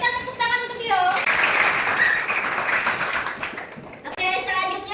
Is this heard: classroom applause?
yes